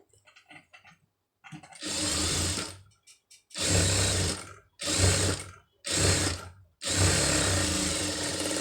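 A sewing machine stitches a sleeve in several separate bursts of rapid mechanical whirring, each lasting about a second, separated by short pauses and faint handling clicks at the start.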